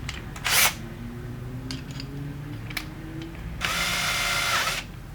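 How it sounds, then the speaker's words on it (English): Cordless drill drives a screw during a mask orientation change, two whirring bursts, one short and one longer, amid small clicks and a low background hum. "I'm going to set this into our little power tool right here."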